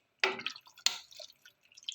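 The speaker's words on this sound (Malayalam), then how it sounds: "നമ്മൾ ഇതിനകത്ത് ഒരു ഗ്ലാസ് വെള്ളം ഒഴിച്ചു" A glass of water is tipped into a pot of chicken dum biryani in two short, quiet splashes followed by scattered light drips and trickles.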